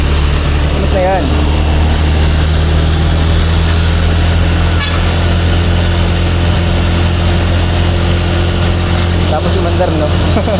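A Honda BeAT v3 scooter engine runs at a steady, loud idle in a repair shop after wheel work, a continuous hum with brief chirps and voices now and then.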